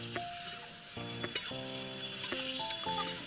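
Turmeric, cumin powder, Kashmiri chilli powder and red chilli powder sizzle in a hot pan for doi enchor while being stirred, a close crackling hiss broken by spatula scrapes, with steady tonal notes sounding over it.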